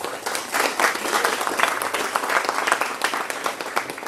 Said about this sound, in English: Let's give Mr. Archie another big round of applause,